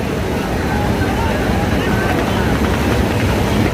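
Passenger launch Kirtankhola 10 pulls away for Dhaka, a loud, steady engine and water rumble with a dense wash of noise, no clear voices.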